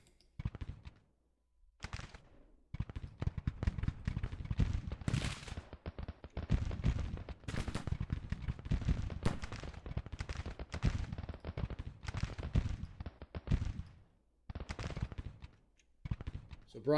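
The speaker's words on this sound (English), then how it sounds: "Let's see if Kemper can't get in close range shot on Shaler's brigade there." Musket volleys from a Civil War brigade engagement in the Grand Tactician strategy game, Spring 1861 campaign: dense, ragged crackling gunfire rolling almost continuously, with brief lulls, fairly distant and moderate in level.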